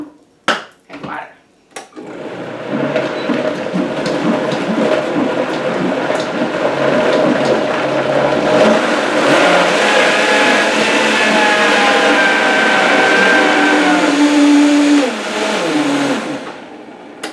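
A kitchen blender whirs loudly and continuously as it blends a fat-free Caesar salad dressing with Dijon mustard and water, starting after a few short knocks and running steadily before easing off.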